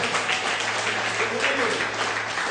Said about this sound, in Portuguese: e mais um aplauso ao Senhor